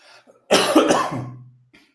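A single harsh, close cough bursts out and trails off, with faint murmuring just before and after.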